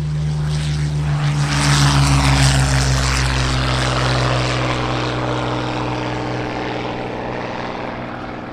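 A Rolls-Royce Merlin aircraft engine, the kind fitted to Spitfire and Hurricane fighters, drones loudly and steadily with a deep propeller hum. It swells slightly early on, then eases back a little while holding its even roar.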